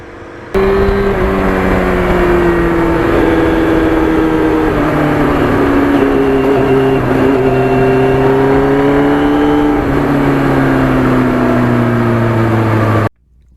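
Restored Yamaha FZR 1000 motorcycle riding along, its engine droning steadily and loud with slowly rising and falling pitch as it holds speed, close and continuous from start to finish.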